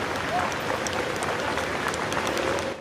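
Crowd applauding Jacques Chirac's funeral convoy on its way to the Église Saint-Sulpice in Paris, with a steady, dense clapping that continues for the whole stretch.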